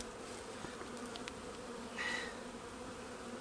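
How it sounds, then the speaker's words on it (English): Honeybees humming steadily at a close, open hive where young queens were grafted, a dense even drone with a brief louder swell partway through and no voices. "Let's have a look at the hive I accidentally kept open."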